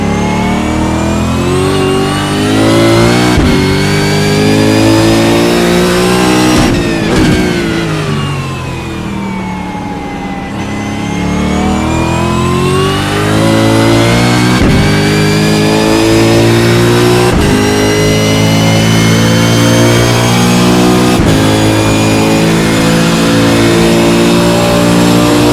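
V8 Supercar racing engines in an iRacing simulation at Daytona, a loud continuous howl of revving and shifting engines throughout, with repeated gear changes and a brief dip in pitch mid-run, no talk.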